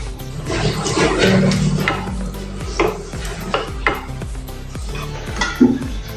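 A spoon scrapes and stirs sev tamatar curry in a pan with irregular clinks and thick, wet sounds, with background music playing underneath.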